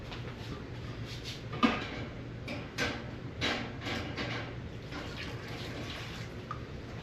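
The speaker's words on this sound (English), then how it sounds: "Get our jars out of the canner." Canning jars lifted from a hot-water canner in a home kitchen for pepper jelly, with soft splashes, drips and light clinks of glass against the pot under a steady low background hum.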